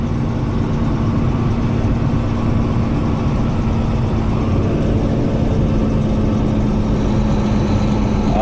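A 25-metre semi truck turning wide in Kansas, its engine droning loud and steady from inside the cab with a constant low hum, no talk.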